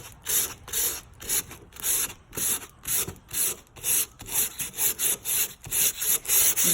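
Hand sanding of wooden furniture being prepared for chalk paint, the sandpaper pushed in one direction: steady rhythmic scratchy strokes, roughly two per second, close and fairly loud, with no talking.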